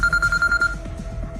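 A phone rings with an incoming call, a rapid electronic trill pulsing several times, close and clear, then fading into soft background noise.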